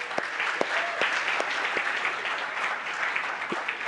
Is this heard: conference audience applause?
yes